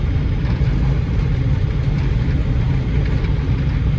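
Steady low engine rumble and road noise from inside a moving Opel car, continuous and fairly loud, with no talking.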